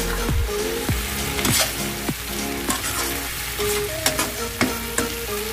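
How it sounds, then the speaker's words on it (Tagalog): Garlic in melted butter sizzling steadily in a pan while being stirred, with a series of close spatula scrapes and taps against the metal at irregular intervals, no voices. "Mix-mix lang para maghalo yung butter at saka yung ating garlic."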